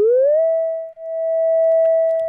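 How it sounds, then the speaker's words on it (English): Pure sine wave carrier tone from a signal generator, rising briefly at the start and then holding one steady pitch, loud and clean with a short dropout near one second. "We're going to bring the carrier down to just a sine wave"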